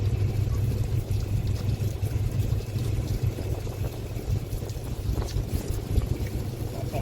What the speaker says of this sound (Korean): 바람 부는 게 엄청나네요